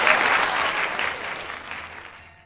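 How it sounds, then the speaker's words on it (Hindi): Audience applause for a senior poet of heroic verse at a gathering, a dense burst of clapping that starts strong and gradually tapers off. "जोरदार तालियां संजय शुक्ला जी के लिए"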